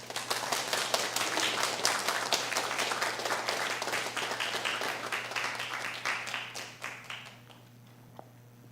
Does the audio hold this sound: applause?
yes